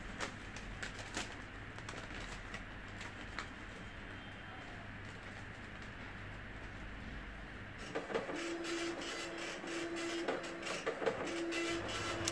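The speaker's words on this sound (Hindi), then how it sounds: "देखिए मैंने अब प्रिंट कमांड दे दिया है और अब ये प्रिंटर जो है प्रिंट करने लगा है" A printer running as it prints a tattoo stencil, a steady mechanical whir throughout with a rhythmic repeating feed pattern becoming more distinct in the latter part, moderately close and without talk.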